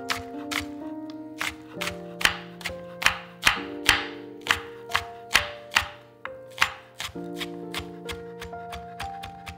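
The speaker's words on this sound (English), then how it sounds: "Thinly sliced leek." Knife thinly slicing leek on a cutting board, a steady series of sharp, close chopping knocks at a regular rhythm, with soft music in the background.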